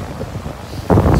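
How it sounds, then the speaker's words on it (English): Strong wind blasts across a microphone on the South China Sea coast after a typhoon, a low rumbling buffet that surges suddenly louder partway through. "Super windy these last few days."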